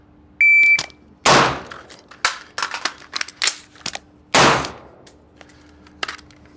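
Rifle shots ring out during a combat reload drill by a special forces shooter: several loud, sharp bangs in an uneven sequence, with smaller clicks and rattles of the reload between them over a low steady hum.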